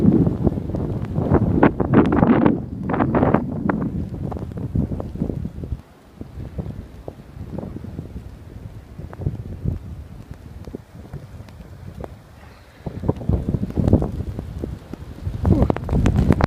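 A nighttime blizzard roars in Portage, Indiana, with strong gusts buffeting the microphone in uneven surges. A quieter lull comes in the middle, then the gusts build loudly again.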